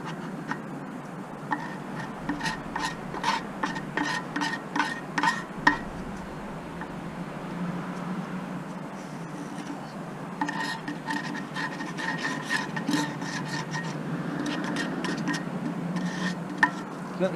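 A blade scrapes caked gunk off the air filter of a Volvo B10BLE bus, producing a steady series of short, sharp scratching strokes with brief pauses, close by and moderately loud.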